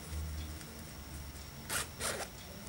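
A zipper on a ruffled dress with built-in cups is pulled open in two quick, close rasping strokes against a low, steady room hum.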